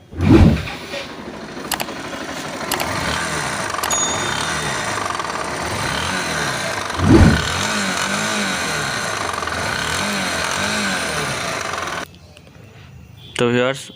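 A Bajaj Pulsar NS160 motorcycle engine with a crankshaft fault idling with an uneven, rattling knock, revved briefly a couple of times, loud and close, before cutting to near silence.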